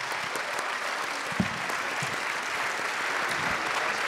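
Warm, steady applause fills a conference hall during an afternoon plenary session, a continuous wash of many hands clapping at even volume.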